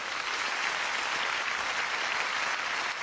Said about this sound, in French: je voudrais quand même qu'on applaudisse celle qui fait la pluie et le beau temps dans notre pays, Tania Young.